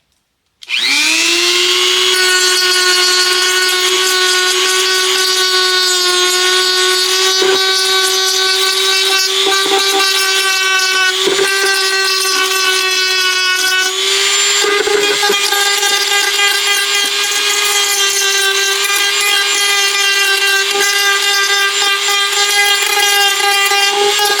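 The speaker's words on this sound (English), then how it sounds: "I'm going to try to get some of this off with my Dremel." A Dremel rotary tool spins up and grinds material off in a loud, continuous high-pitched whine close by, shifting slightly in pitch as it bites.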